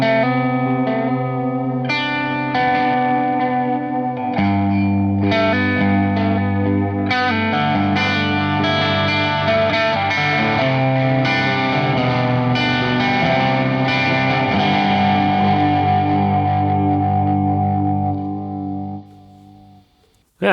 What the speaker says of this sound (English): it's a good tape sound and does some fun things